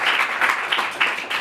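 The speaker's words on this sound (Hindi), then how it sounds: "आए जोरदार तालियां बजाएं।" A church congregation claps and applauds at a Christmas sermon, a dense, steady burst of many hands lasting just over a second.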